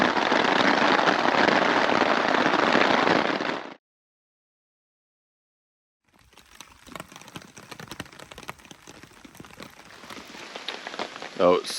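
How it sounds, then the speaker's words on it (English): Heavy rain falls in New Zealand bush on a sika deer hunting trip, a dense loud hiss of drops at first, then a sudden gap of silence, then sparser patter and drips with scattered louder taps. "Oh no, it's still raining."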